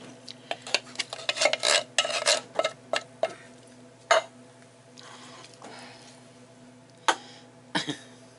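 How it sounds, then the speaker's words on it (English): Two cans of peas being added and stirred into a potato casserole with ham, with scattered scraping and clinking of a utensil against the dish in uneven bursts and quieter gaps, close by, without voices. "now I'm going to put the 2 cans of peas in here"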